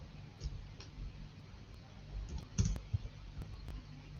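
Scattered keyboard clicks as a message is typed, irregular and fairly faint over background room noise, with a couple of louder taps near the middle.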